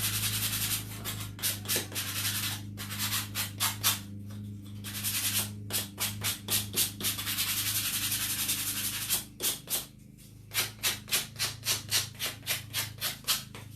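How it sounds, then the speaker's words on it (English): Sandpaper rubbed over a pumpkin topiary craft piece in repeated quick strokes, close and steady, with bursts of rhythmic scrubbing separated by short pauses and no talking. "But first I'm going to sand it a little bit."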